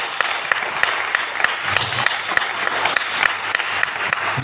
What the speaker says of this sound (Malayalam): തയ്യാറാണെന്നുള്ളവരൊക്കെ കൈയടിക്കുക